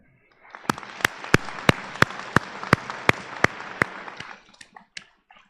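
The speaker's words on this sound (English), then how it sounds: "give that applause to them now" Graduation ceremony audience applauding the graduates: a few scattered claps build into steady applause with sharp individual hand claps standing out close by, then it thins to a few last isolated claps.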